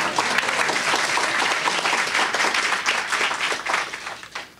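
Loud, close audience applause at the opening of a senior housing development, a dense burst of clapping that carries for several seconds and then tapers off.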